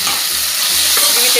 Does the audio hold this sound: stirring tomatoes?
yes